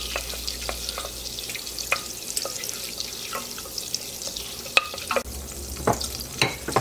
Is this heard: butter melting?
yes